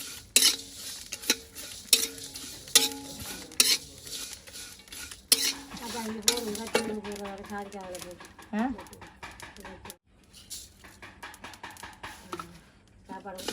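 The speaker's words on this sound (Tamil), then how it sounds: "கருவாப்பட்டை அந்த சாதிக்காய் மாதிக்காய் எல்லாம் போட்டு சேர்த்து சேர்த்து வறுத்தா வறுபட்டுரும்" Cinnamon, nutmeg and mace dry roasting together in a pan, with repeated scraping and clattering of a spoon against the metal, uneven knocks and rattles, and voices talking faintly in the background.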